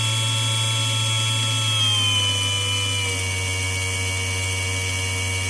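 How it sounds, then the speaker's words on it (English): A BOMA inrunner electric motor spins at maximum RPM, its steady high whine joined by a lower stuttering tone beneath, loud and continuous with a slight pitch drop partway through. "You can hear the regular motor tone, and there's that other sound underneath it."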